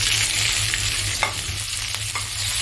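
Whole spices such as cloves, green and black cardamom, cumin and cinnamon roasting in hot oil with onion, a dense close sizzle with a few scraping stirs of a utensil against the pan, no talking.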